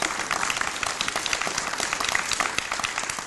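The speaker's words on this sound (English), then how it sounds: "would you join me with a round of applause?" Applause rolls through the audience at a faculty colloquium, a dense, even patter of many hands clapping at close range for a few seconds.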